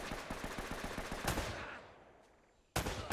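Rapid automatic gunfire in the video game Uncharted: a fast, evenly spaced burst that fades into a decaying tail, then a second loud burst cuts in at the end.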